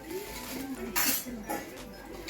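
Stainless steel kitchen vessels, serving bowls and a milk pot, clink and ring as they are handled in a shop, with a couple of bright metallic knocks amid background voices.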